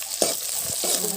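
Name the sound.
onions frying in oil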